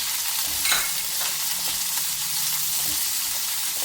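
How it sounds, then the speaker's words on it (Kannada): Onions fry in a pan over cumin seeds for a creamy North Indian curry, giving a continuous soft sizzle with an occasional stirring scrape, heard alone and fairly close. "ಈಗ ಈ ಈರುಳ್ಳಿನ ನಾನು ಇದಕ್ಕೆ ಹಾಕಿ ಹುರಿತಾ ಇದ್ದೀನಿ."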